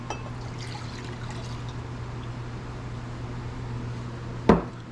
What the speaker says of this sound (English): So we're gonna go ahead and pour that in here.